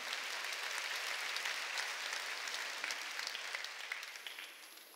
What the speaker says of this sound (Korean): 오늘 읽은 사람만 박수 치라고